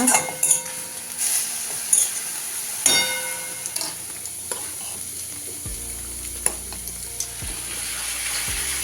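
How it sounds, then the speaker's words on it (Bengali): Kankar shak greens fry in a pan, a continuous sizzle broken by frequent clatters and scrapes of a utensil stirring against the pan. "এই দেখো এখানে হচ্ছে আমার কনকর শাক ভাজা"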